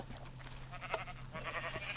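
A sheep in Minecraft bleats in a couple of short, wavering calls over a low steady hum.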